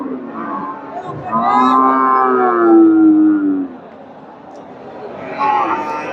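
Cattle lowing at a busy cow and calf market in Bogura, Bangladesh, with a long drawn-out moo rising over crowd chatter and a shorter call near the end, while people talk nearby.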